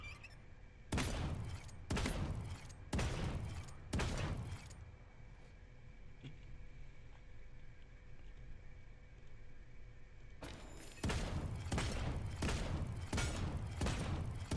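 Barik's blunderbuss in the Paladins shooter fires loud, booming shotgun blasts: four evenly spaced shots, a pause of a few seconds, then a second run of rapid blasts, all close and heavy.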